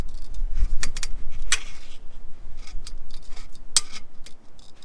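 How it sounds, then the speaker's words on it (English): Tin snips cut sheet metal in small increments, producing a run of sharp, crisp metallic snips at an uneven pace, close and fairly loud over a low background rumble. "if you really want a fine cut, you got to take little increments"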